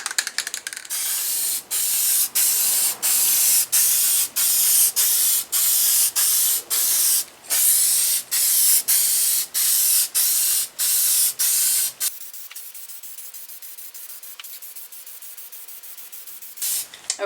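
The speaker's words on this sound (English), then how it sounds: "let's go ahead and get these sprayed" Liquid varnish is sprayed onto art on paper in a rapid series of short, loud hissing bursts with tiny gaps between them, then the spraying stops and only faint background noise remains.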